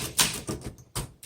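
Typing on a 1963 Olympia SM7 manual typewriter, four loud, sharp key strikes in an uneven rhythm, close up and alone.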